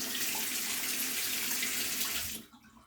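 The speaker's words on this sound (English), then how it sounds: "using a clean paper towel to start the faucet with warm water" Warm water runs from a sink faucet in a steady, close splashing hiss, then shuts off abruptly near the end, leaving quiet.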